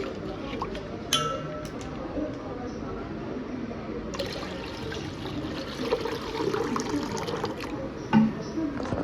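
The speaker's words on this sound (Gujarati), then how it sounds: "આમાં નાખી દઈશું પાણી જ." Water is poured into a pot for pani puri, a soft liquid gurgle and fill sound close by, with a few clinks of utensils and people talking over it.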